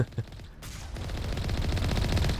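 Rapid, sustained gunfire from a Mass Effect firefight against Geth at Zhu's Hope, with dense overlapping shots rattling continuously after a brief quieter start, loud and close throughout.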